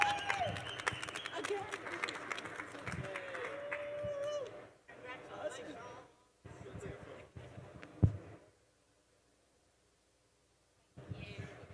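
Audience applause rings out at a startup competition grand final in Vegas, dense broadband clapping mixed with crowd chatter and a voice for the first few seconds, then breaking into quieter murmurs with a short final burst.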